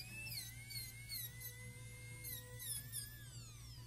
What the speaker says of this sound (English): put the burr parallel to the flare and bring it up this way